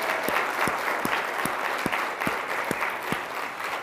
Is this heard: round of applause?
yes